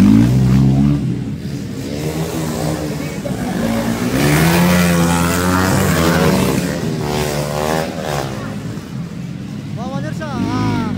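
A Jeep revs at a local enduro flat race in Barangay San Antonio, MacArthur, Leyte. The engine surges and drops repeatedly, close and loud, under steady commentator talk.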